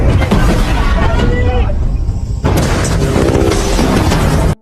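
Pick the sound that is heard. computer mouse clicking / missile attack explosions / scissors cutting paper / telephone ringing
missile attack explosions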